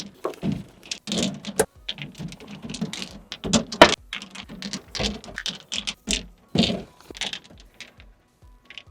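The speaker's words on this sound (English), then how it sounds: "We're just gonna put on our decorative rocks." Decorative rocks are set down one by one around a backyard fountain, giving irregular close clacks and crunchy knocks of stone on stone with short gaps between.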